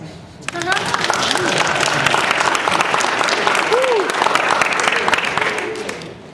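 A festival audience at a hip hop film screening in a theatre breaks into loud, sustained applause, dense clapping rising quickly and holding steady, with whoops and scattered voices mixed through it before tapering off.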